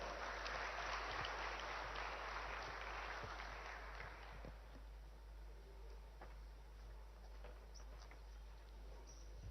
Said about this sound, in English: Can we please welcome him with a warm round of applause?